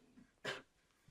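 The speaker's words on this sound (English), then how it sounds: "She coughs as she struggles to catch her breath." A woman in a radio drama coughs once, a short harsh burst after nearly drowning, heard alone with quiet breathing around it.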